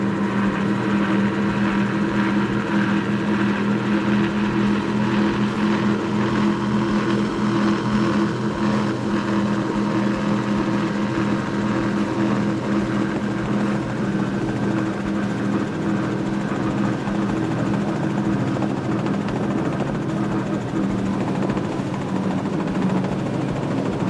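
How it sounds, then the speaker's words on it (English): A 2008 30-foot Adrenaline V30 powerboat with twin Mercury Racing 525 engines runs at a steady, loud, continuous drone with no talk, the engine note holding nearly unchanged throughout. "It's a 2008 30-foot Adrenaline V30 Mercury Racing 525s."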